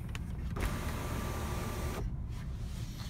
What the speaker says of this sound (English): you just push that button right there and it will open up your moonroof